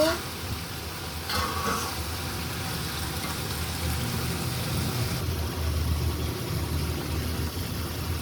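Tilapia fish and vegetables being stirred in a pan, a continuous close sizzle with rustling, scraping movement and one brief louder clatter near the start.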